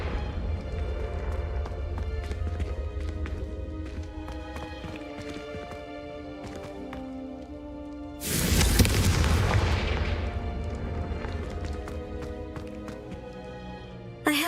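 Spell blast of a Confringo fire curse in a fantasy video game: a sudden loud, broad burst of explosive noise erupts midway over a steady musical backdrop, roars for about two seconds, then fades back into the score.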